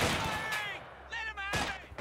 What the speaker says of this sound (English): Taking small arms fire.